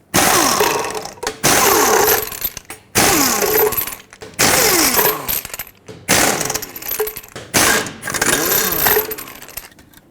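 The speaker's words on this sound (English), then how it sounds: "remove all 6 of your lug nuts, and then we'll remove the wheel" Six lug nuts coming off a 1996–2002 Toyota 4Runner wheel with a power tool, loud repeated bursts of whirring, rattling impact, each about a second long, separated by short pauses, close up with no talk.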